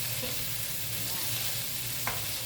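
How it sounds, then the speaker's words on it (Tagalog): Cucumber frying with butter and garlic in a pan gives a steady, close sizzle throughout, with a soft scrape of stirring near the end. "Mix lang natin siya sa butter. Sa butter at saka sa garlic."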